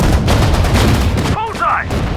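Loud, dense battlefield gunfire and explosions from the World War II strategy game Sudden Strike 4, set at Dunkirk, roar continuously while shouted voice commands cut through the din.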